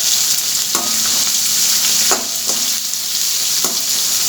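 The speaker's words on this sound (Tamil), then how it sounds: "வெங்காயம் கொஞ்சம் நல்லா வதங்கட்டும்." Onions sizzle steadily in a hot pan for a raw jackfruit curry, a constant bright frying hiss with a few soft stirring knocks from a utensil.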